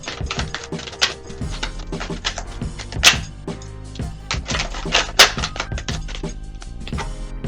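Tarot cards shuffled vigorously by hand, with dense, sharp papery flicks and slaps in quick irregular bursts, close and fairly loud, some cards snapping out harder than others.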